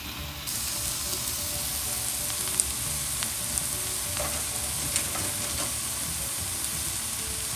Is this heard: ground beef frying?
yes